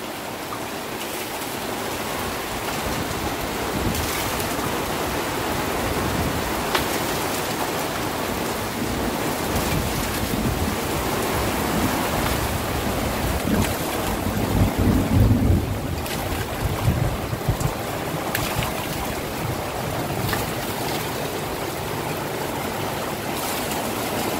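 Heavy storm rain pours steadily for the whole stretch as a dense, loud hiss, mixed with gusting wind and occasional swells, with no one speaking.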